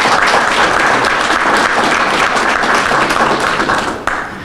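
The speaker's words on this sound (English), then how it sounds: "give ourselves a round of applause and to give them a round of applause" Audience applauding at a ribbon cutting for a county police department's new facility, dense steady clapping close and loud that tapers off near the end.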